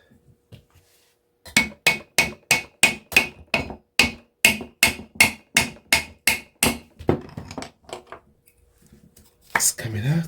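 A hammer strikes an aluminum motor casing about fifteen times in a steady, fast rhythm to drive out the shaft. The blows are loud and close, followed by a brief lull and a scraping rattle at the end.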